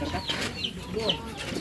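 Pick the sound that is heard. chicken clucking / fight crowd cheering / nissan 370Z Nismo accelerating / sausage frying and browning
chicken clucking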